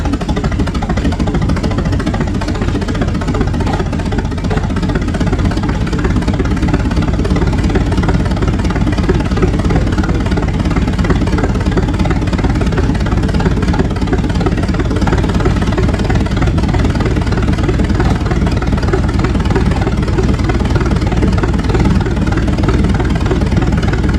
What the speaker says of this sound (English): This huge engine was made by adding 2 more cylinders to HOLT's existing 120 horsepower design.